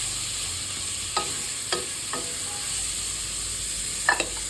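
Turmeric and overnight-soaked cowpeas being stirred in a frying pan: a steady soft sizzle with a few spoon scrapes against the pan, fairly quiet and close, no voices.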